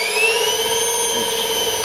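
A homemade milling machine spindle runs at roughly 800 to 1200 rpm with noticeable runout, giving a loud, steady high whine with layered tones and a slight shaking rattle, close and uninterrupted.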